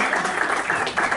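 Audience clapping at a small concert, a short, close burst of applause with a faint voice beneath.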